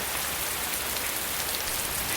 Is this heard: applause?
no